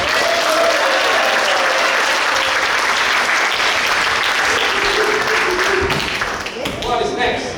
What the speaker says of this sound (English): So that's another applause for the Sabines.